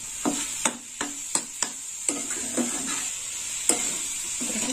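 Coconut sweet mixture stirred in a pan makes regular close scraping and tapping strokes of a spoon, roughly two per second, over a faint steady sizzle.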